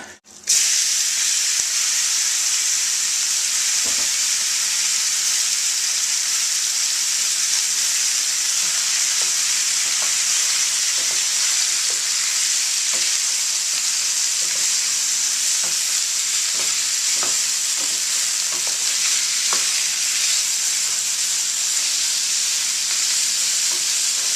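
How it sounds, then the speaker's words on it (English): Meat browning in a hot pot for chili gives off a loud, steady sizzle with broadband hiss that runs unbroken throughout, along with a few scattered clicks and stirring scrapes and no talking. "I'm going to go ahead and brown the meat."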